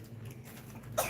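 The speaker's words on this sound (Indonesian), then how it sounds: "batuk kan?" A single short cough bursts out near the end, following a quiet stretch of low background hum in an indoor setting.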